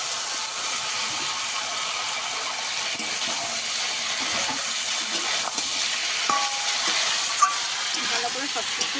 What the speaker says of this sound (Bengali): ভালো করে সব কিছু মিশিয়ে মিশিয়ে কষিয়ে নেব।